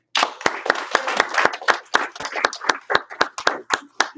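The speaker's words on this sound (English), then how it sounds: "Give him one clap, 2 claps, and you rock." A group at a karate class claps in a quick, steady run of sharp, close hand claps, about a dozen and a half slaps in a loosely shared rhythm.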